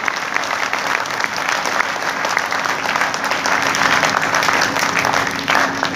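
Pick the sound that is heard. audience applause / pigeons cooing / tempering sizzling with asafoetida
audience applause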